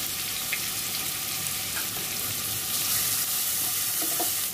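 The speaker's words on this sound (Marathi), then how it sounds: "लसूण थोडा लालसर होत आला की त्यात आपण हा कांदा घालून घेऊ।" Chopped onion dropped into a pan of garlic browning in oil for an elephant yam bhaji, giving a steady close sizzle with a few soft scrapes and clinks.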